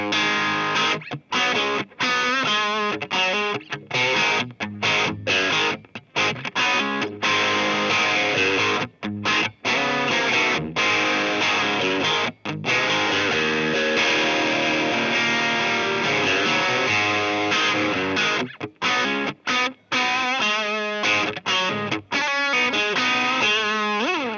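Distorted electric guitar through the overdrive channel of a Koch Jupiter 45 amp, thick and saturated, playing continuously with brief gaps between phrases; loud and close, no voices.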